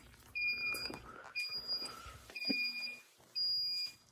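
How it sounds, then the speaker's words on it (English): Short bursts of a shrill electronic alarm beep repeatedly at intervals, with faint handling noise and a brief voice between them. "Fire alarm in-house."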